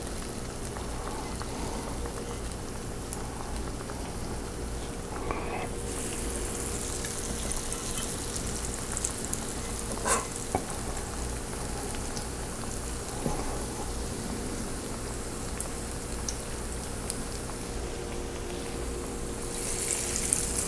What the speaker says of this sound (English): And then I want to just start dropping these into the oil.